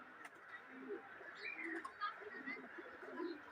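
Pigeons kept by a hobbyist coo softly in a quiet outdoor setting, a few low, rolling calls spaced out against faint background noise.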